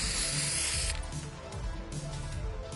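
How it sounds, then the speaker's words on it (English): Spray paint hissing onto the floor in a video game, a steady close hiss with a couple of brief breaks over a short span. "I'm gonna spray paint on the floor, ready?"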